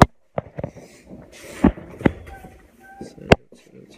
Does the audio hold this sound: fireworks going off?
yes